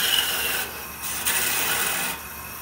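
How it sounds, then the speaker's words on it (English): A wood lathe spinning at about 1200 to 1400 RPM while a tool parts away waste wood from a natural edge goblet, giving a loud, steady scraping rasp with brief dips as the cut pauses. "now we're going to part away some extra wood"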